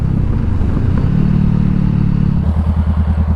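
A motorcycle engine runs loud and close, holding a steady idle before settling into a lumpy, pulsing rhythm toward the end.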